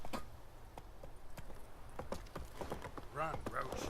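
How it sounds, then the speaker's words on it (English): Roach the horse trots in The Witcher 3, hooves clip-clopping in a loose rhythm while someone talks over them and brief game sounds rise near the end. "He's trotting his horse."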